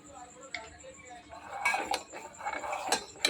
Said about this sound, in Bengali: একটু চিনি দিয়ে দেবো